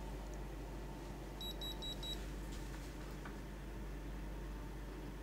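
A Blaupunkt Q3200 home alarm system beeps as it is armed: four short, high, faint beeps in quick succession over a steady background hum.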